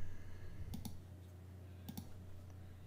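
Computer mouse clicks while working in Photoshop CS6, two quick double-clicks about a second apart, close but faint over a low electrical hum.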